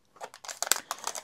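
A small plastic parts bag from a Makita DTD156 impact driver kit is crinkled and handled up close, giving short bursts of crisp rustling and crackling with brief pauses between them.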